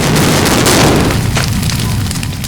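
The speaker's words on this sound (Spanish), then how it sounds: "Si queréis ver la explosión, que haya algo por medio entre vosotros y ella." A loud explosion of an airplane set off as a film special effect, a massive sustained roaring blast that fills the whole clip and slowly eases without dying away.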